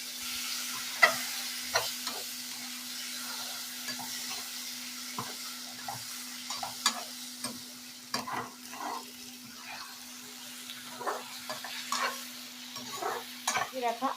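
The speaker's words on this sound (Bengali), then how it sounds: "এই মশলার সঙ্গে কিন্তু চিংড়ি মাছটাকে কষিয়ে নেব।" Prawns being stir-fried in a masala, Bengali dhaba style, with soft steady sizzling under repeated scraping and stirring clicks of a utensil against the pan, close and fairly quiet.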